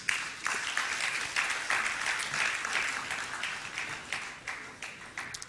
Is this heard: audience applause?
yes